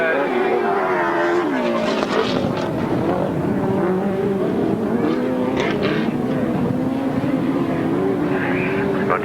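Yamaha-powered sidecar outfits racing on a grasstrack at a 1993 meeting, engines droning loud and continuous with rising and falling pitch as they pass, a faint announcer voice in the background.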